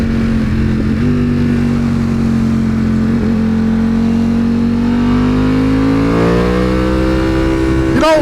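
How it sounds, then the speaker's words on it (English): A lowered, modified Ducati motorcycle engine hums while riding, its note holding steady and then rising as the rider accelerates, loud and close with wind rush. "Beautiful bike, looks and sounds great. Now it's time for us to do some riding"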